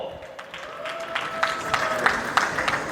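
A live comedy audience applauds to welcome comedian Koporo on stage, a dense, steady patter of clapping from a crowd with scattered louder claps and a faint sustained tone underneath.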